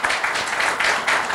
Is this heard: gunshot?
no